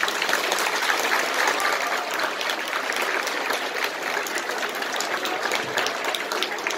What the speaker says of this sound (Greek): Ευχαριστώ για το χειροκρότημα.